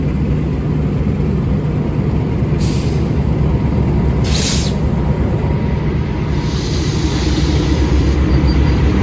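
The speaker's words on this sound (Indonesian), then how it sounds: "ini dia kereta api komuter lain Supas sudah masuk di jalur 1 stasiun Pasuruan sebagai tujuan akhir" A Supas commuter train pulls into platform 1 at Pasuruan station, its terminus. A continuous low rail rumble runs throughout, broken by three sharp bursts of air-brake hiss.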